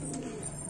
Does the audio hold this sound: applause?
no